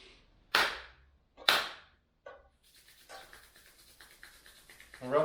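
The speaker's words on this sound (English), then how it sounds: "Clap twice." A person claps their hands twice during an Aikido warm-up, producing two sharp, loud claps about a second apart, followed by quiet rustling and soft movement.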